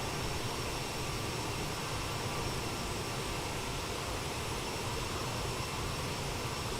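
An aircraft engine in Microsoft Flight Simulator 2020 holds a dense, steady roar at a constant level, close and loud, with no voices over it.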